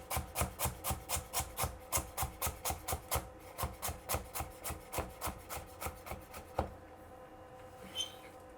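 A knife chops an onion for black bean soup on a wooden cutting board in a fast, even run of close, crisp taps with rubbing and scraping, then a louder knock, quiet, and one last tap.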